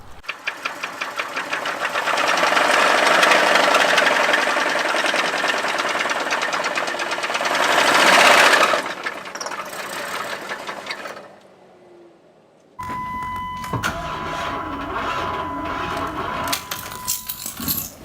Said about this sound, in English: The Jeep was starting, but it had a really clanging sound to it.